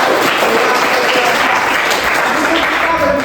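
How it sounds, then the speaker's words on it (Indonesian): Applause from a classroom audience during a guidance lesson on bullying, steady dense clapping filling the room for a few seconds, with some voices mixed in. "Oke, tepuk tangan."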